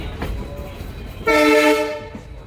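A train rumbles steadily, then a loud horn blares for under a second before fading back into the running rumble.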